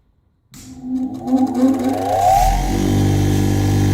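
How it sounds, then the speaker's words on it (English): Bench grinder with a grinding wheel switched on to reshape drill bits for brass: a motor whine rising in pitch as it spins up after half a second, then settling into a loud steady hum. "So let's turn the grinder on."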